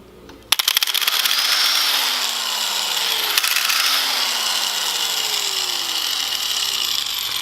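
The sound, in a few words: grinder cutting titanium motorcycle bars in a vise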